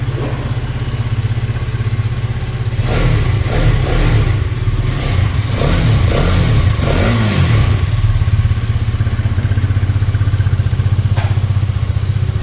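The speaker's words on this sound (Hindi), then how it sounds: "इसका देखिए मैं की ऑन करता हूँ, इसके फायरिंग सुनाता हूँ मैं आपको। गाड़ी स्टार्ट करते हैं," A Hero Karizma XMR 210cc motorcycle engine starts and settles into a steady, loud idle, with several throttle blips rising and falling in the middle before returning to an even close-up rumble.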